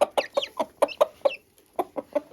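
A Limoges golden partridge rooster and hens cluck close by in a quick series of short, clipped calls with brief pauses between bursts, with no voices.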